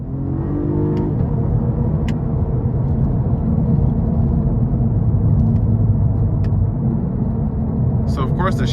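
Inside a 2022 Cadillac CT4-V Blackwing with a 3.6-liter twin-turbo engine, a steady, loud low engine drone and road rumble fill the cabin while driving over a rough road, with brief ticks suggesting quick shifts.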